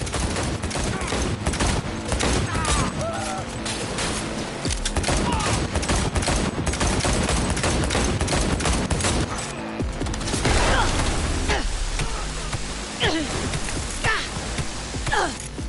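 Sustained, dense gunfire from the game Cyberpunk 2077, with rapid overlapping shots and bursts running nearly the whole time, loud and close, with a few shouted voices mixed in.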